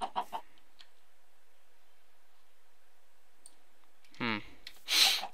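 Minecraft chicken clucking in the game world, a couple of brief clucks near the end following earlier clicks and a long near-silent stretch.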